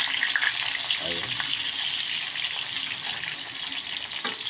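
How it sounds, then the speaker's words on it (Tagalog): Eggplant frying in a pan gives off a constant hissing sizzle at a moderate level, with a few faint scrapes and clinks and no clear talking. "Pritong talong. Madaling lutuin sa almusal"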